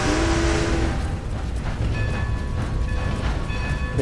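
A steam train being driven in the Red Dead video game rumbles and clanks along steadily, with a whistle-like tone at the start, a continuous mechanical roar throughout.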